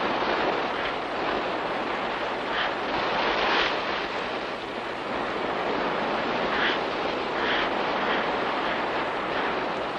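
Continuous roar of ocean surf washing onto a beach, broad and steady with gentle surges, mixed with some wind noise.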